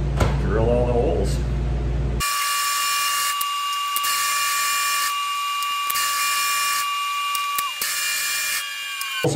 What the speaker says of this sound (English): Then we just drill all the holes.